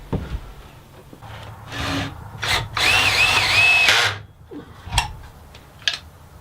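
A power drill drives screws into reclaimed wood from a wooden crate, with a sustained high motor whine in the middle plus shorter bursts and clattering knocks of handling, close and loud.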